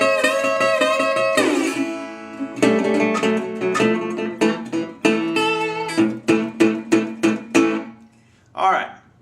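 A Delta blues intro on acoustic guitar in open G Spanish tuning, with strummed chords, sliding notes and a run of quick plucked stabs, close and fairly loud, played alone.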